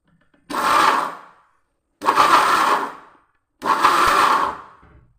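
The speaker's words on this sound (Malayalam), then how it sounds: "എന്നിട്ട് മിക്സിയിൽ ഒന്ന് ജസ്റ്റ് ഒന്ന് കറക്കിയെടുക്കാം" A kitchen mixer grinder spins chilli chutney ingredients with salt in three separate bursts of about a second each. Each burst is a loud whirring motor grind that stops cleanly, with short silences between them and no talk.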